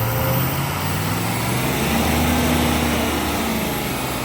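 A donor truck engine running hard with a suspected boost leak, a loud steady drone with a rising whine and rough, breathy huffing, close up and continuous with no voices.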